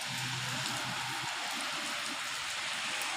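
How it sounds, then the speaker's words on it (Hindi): Steady rain pours down in a dense, even hiss that holds without pause, with a faint low murmur underneath and no distinct voices. "अज बारिश पौंदी पई है"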